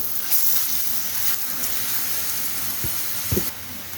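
Aloo methi lachha paratha frying in oil on a pan, a soft steady sizzle and hiss with a couple of brief louder crackles near the end, no talk.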